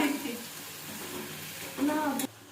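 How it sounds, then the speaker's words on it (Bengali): Onions frying in a pan on a gas stove for aloo dum make a soft, steady sizzle that rises briefly louder near the end, with faint voices mixed in. "প্রথমে পেঁয়াজটাকে ভাজলো"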